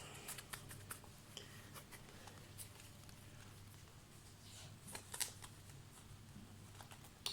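Tarot cards being shuffled for a three-card draw, soft papery riffles and taps heard close but faint, with scattered irregular flicks over a low background hum.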